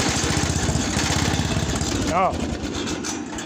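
A Ranch King lawn mower engine runs with no choke, a loud, rough, steady throb close by that drops slightly in level partway through, with a voice talking over it.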